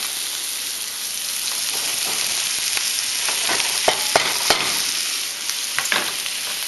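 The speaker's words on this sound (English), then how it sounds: "And then I want to just mix that up and get mushrooms coated with oil" Mushrooms and roasted garlic frying in oil in a pan, a steady close sizzle with scattered scraping stirs and small pops throughout, no voices.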